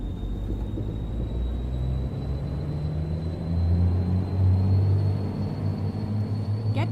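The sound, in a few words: truck engine sound from a sound mod pack in American Truck Simulator video game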